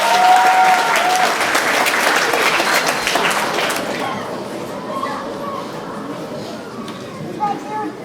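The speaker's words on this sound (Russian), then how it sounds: "Бурные аплодисменты" Enthusiastic applause fills a school's last-bell ceremony as 9th-grade students are called up: a dense crowd claps loudly for about four seconds, then the clapping thins and fades into quieter room murmur.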